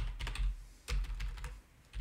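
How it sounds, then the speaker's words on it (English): Computer keyboard typing during a live data-visualization stream: a short, close burst of quick irregular keystrokes with brief pauses between clusters, heard alone. "Typing."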